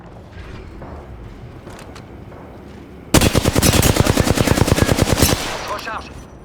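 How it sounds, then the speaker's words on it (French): Rapid automatic gunfire from a shooter video game rings out as a loud, close burst of evenly spaced shots lasting about two seconds, following quieter background game ambience and fading afterward. "Donc, je me fais tirer dessus."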